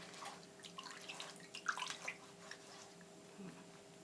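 Banana blossom being washed by hand in water, giving faint, uneven splashing and dripping with a few small sloshes, fairly quiet against a low background hum.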